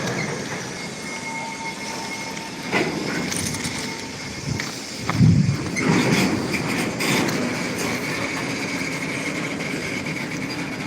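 Freight train of oil tankers at a railway station, loud close rolling of wagons over rails with metallic wheel squeals and clanks, continuous across the stretch.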